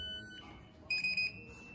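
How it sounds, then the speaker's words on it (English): An MDB-USB Interface Plus payment terminal gives a clear electronic beep as its relay activates, a high steady tone broken into a couple of short bursts, close and distinct over a quiet room hum. "That was a 2 second beep because the relay activated."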